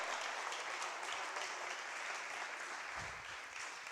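A crowd claps continuously in a dense, even wash of applause that holds steady throughout, with a few lower thumps near the end.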